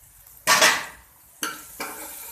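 Spices tipped into a hot pan for khatta baingan: a loud burst of sizzling frying, then two shorter bursts of stirring and sizzle. It is close and without talk.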